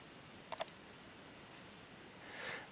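Two quick mouse clicks at a computer while working in Ceramill Mind dental design software, crisp and close in a quiet room, followed by a soft faint rustle.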